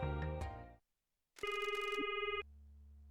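A telephone rings in the Promise Mascot Agency video game, a loud electronic ring tone in a single burst of about a second after a short musical passage, then a low hum continues.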